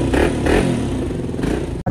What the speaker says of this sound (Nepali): बाइक स्टार्ट गरेर